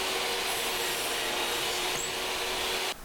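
A saw cuts a dado-style notch in wood for a jig, a steady continuous rasping loud and close for about three seconds before stopping abruptly, with no talking.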